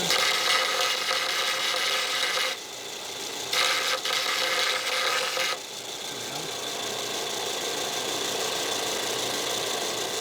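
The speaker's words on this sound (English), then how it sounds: "We're going to deburr the shaft in really quick." A machined steel shaft is deburred on a K. O. Lee tool and cutter grinder: a steady, loud hissing abrasive noise runs throughout, dipping briefly twice before continuing at a slightly lower level.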